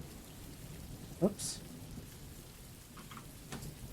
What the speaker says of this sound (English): I'm just plopping some rain sounds in.